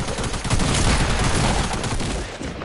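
Heavy sustained gunfire in Fortnite, a loud, dense barrage of shots packed tightly together for a few seconds before trailing off.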